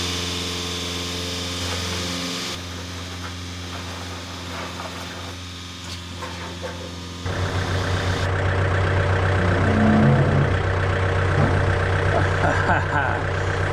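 Tractor engine idling and then revving louder while being used to flip over a built deer blind platform, a steady low drone running throughout.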